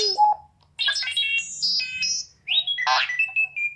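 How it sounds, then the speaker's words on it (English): Electronic tones and chirps from a homemade Padawan 360 droid control system running on an Arduino Uno, triggered by button presses: several bright beeping, warbling sound effects in quick succession, close and clear, with short gaps between them. "So now if I just push some buttons, you can hear that we get our sound events."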